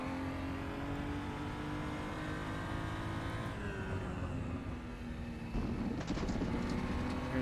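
A BMW M235i Racing car lapping the Zandvoort circuit, its engine droning loud and close from inside the cockpit, pitch sliding down through braking and a gearshift, then rising again under throttle.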